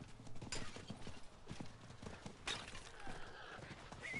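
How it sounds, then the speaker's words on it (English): A horse trots in the video game Diablo 4, its hooves clip-clopping in a steady rhythm across rough ground, faint in a game mix with no talking. "I'm getting back on my horse."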